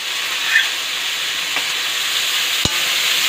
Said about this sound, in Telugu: ఆనియన్స్ క్యాబేజీ వేసుకొని ఫ్రై చేసుకోవాలి